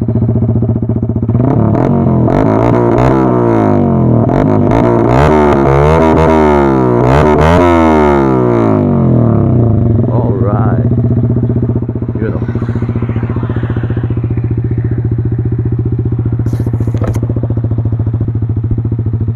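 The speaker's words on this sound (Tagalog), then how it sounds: "SC Project canister plus yung kanyang elbow, aftermarket na rin. Kaya sobrang ganda ng tunog." A Yamaha XSR 155 motorcycle fitted with an aftermarket SC Project canister and elbow exhaust revs up and down repeatedly, a loud close rasping roar with climbing and falling pitch, then settles into a steady burbling idle.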